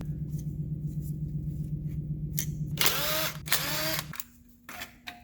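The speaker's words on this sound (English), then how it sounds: "start working your way around the 10mm bolts on the valve cover so you can get them out" Pneumatic or electric power tool whirring in loud bursts while backing out 10mm valve cover bolts on a 2003 Toyota Corolla, two strong runs after a steady low hum, then quieter clicks.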